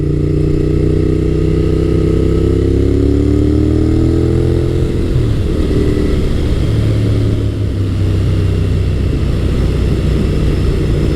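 A Honda VTR1000F SuperHawk V-twin motorcycle is ridden on a Pennsylvania road, its loud, deep engine drone shifting pitch as it accelerates and changes gear, steady and close with wind rush throughout.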